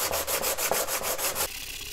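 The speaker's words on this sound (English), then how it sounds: "And I have this three-stage sanding stick here." Quick, even strokes of a three-stage sanding stick rub across a model railroad panel, about a dozen close rasping passes in a steady rhythm before the sanding stops.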